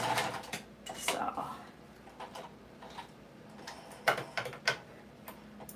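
A home sewing machine stitches with Gutermann thread in bursts of quick mechanical ticking, some louder clicks standing out against a quiet room, with no speech.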